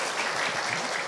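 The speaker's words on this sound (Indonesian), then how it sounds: "berikan tepuk tangan untuk semuanya" An Indonesian youth talk-show audience claps together in a sustained, even burst of applause that fills the room at moderate loudness, with no voices over it.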